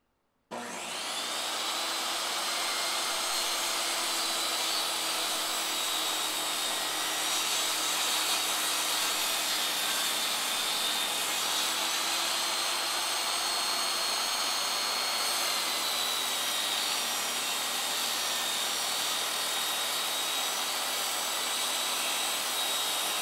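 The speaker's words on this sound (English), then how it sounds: "I should be able to run this whole piece right through the table saw, and it will just cut off the excess." A table saw rips a length of wood for a window frame in a van conversion, a loud, steady, close whine with a broad rushing hiss that holds for over twenty seconds without a break.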